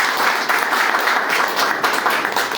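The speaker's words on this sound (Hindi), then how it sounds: "बहुत धन्यवाद पंकज जी और महेंद्र जी के लिए जबरदस्त तालियां।" Loud, dense audience applause at a product training event fills the whole stretch as a steady, close wash of many hands clapping, with no voices over it.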